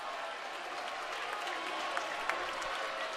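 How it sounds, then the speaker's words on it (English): A crowd in a gym at a Division III men's volleyball national championship claps together, a sustained wash of applause with a few sharper individual claps standing out, heard from a distance at moderate level. "The slow clap begins."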